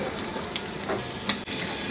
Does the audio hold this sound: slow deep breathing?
no